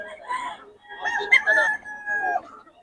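A Sweater-bloodline gamefowl rooster crows once, loud and close, in a long drawn-out call following a brief cluck.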